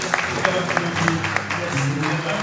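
A church congregation claps and cheers together during a French-language anniversary service, a steady stream of hand claps with crowd voices mixed in throughout.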